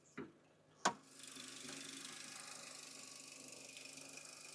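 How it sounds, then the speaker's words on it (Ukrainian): Two sharp clicks, then the 1.6-litre petrol engine of a 2013 Dacia Duster starts and settles into a steady, low, even idle with a faint rhythmic ticking. "Я думаю, що ви відчуваєте, як працює двигун у нас."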